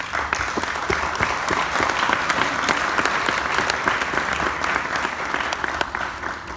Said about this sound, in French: s'il veut bien se lever pour l'applaudir